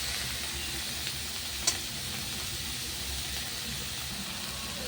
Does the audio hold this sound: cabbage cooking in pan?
yes